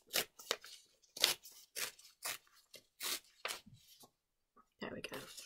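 Several sharp scissor snips cut a small nick into square origami paper, close and crisp, scattered in a quick irregular rhythm with short pauses between cuts and a brief rustle of paper at the end.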